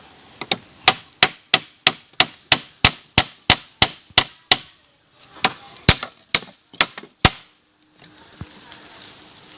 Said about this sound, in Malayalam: ചെയറിൻ്റെ ഈ ചാരിയിരിക്കുന്ന ഭാഗത്തിൻ്റെ ബാക്കി പീസുകൾ നമുക്ക് അടിച്ചു കൊടുക്കാം